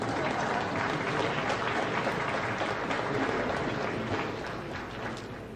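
A nightclub audience applauds a comedian as his act closes, a dense, continuous roar of clapping held at steady volume throughout before easing slightly at the end.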